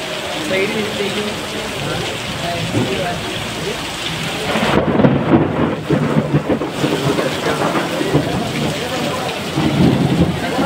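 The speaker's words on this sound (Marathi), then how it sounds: "विजांचा कडकडाट सुरू आहे" Heavy rain pours steadily during a windy thunderstorm in Kej town, with deep rumbling thunder swelling loudly around the middle and a voice speaking over the downpour at times.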